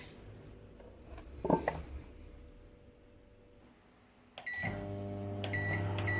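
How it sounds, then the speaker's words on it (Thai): Microwave oven cooking a covered dish of steamed egg with canned fish: a quiet room with a brief clatter, then the oven starts with a beep and settles into a steady, close electrical hum. "อบในไมโครเวฟสีนาทีค่ะ ปิดฝาด้วยนะคะ"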